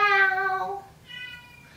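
A female house cat meows twice, a long, clear, harmonic-rich call followed after a short pause by a softer, shorter one, close to the listener with no talking.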